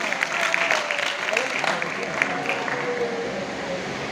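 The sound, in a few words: audience applause at speech competition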